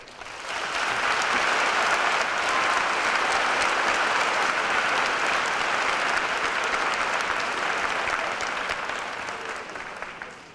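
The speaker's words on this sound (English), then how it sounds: "And now some pretty fancy clapping by everybody out in the audience." A large audience at a commencement ceremony claps steadily and loudly for about ten seconds, a dense, even wash of applause that fades slightly at the end.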